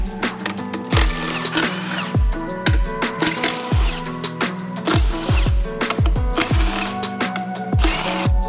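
Close, sharp metallic clicks and taps in an irregular run, like a ratchet and loosened parts, as the throttle body comes off a knocking Acura 3.7-litre J37 V6 engine during teardown.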